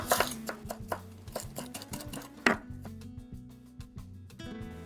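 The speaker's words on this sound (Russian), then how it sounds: "И также мелко порежу небольшой пучок кинзы." A knife finely chops a small bunch of cilantro on a cutting board, a quick series of close, sharp taps with an uneven rhythm, with no voices.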